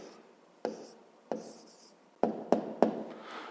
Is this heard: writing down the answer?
yes